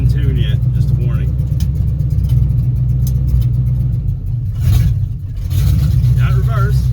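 Chevrolet C1500 short-bed pickup engine, not yet in tune, runs loud and close with a steady low rumble and slightly uneven idle while the transmission is tested, briefly dipping midway before settling back.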